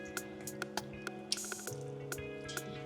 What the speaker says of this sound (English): we're going to add our turkey.